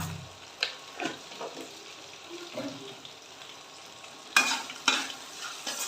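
Salt and sugar being stirred and fried in ghee in a pan before spinach goes in, a soft low sizzle with scattered scraping stirs and a couple of sharper clatters near the end, close by.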